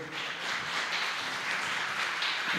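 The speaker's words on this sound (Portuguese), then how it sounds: "Vamos aplaudir mais uma vez o Senhor." A church congregation applauds during a worship service, a steady continuous wash of clapping held at even loudness throughout without any break.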